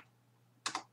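A short burst of keystrokes on a computer keyboard after a quiet moment, a few close clicks in quick succession at low level.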